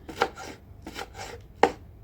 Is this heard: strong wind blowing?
no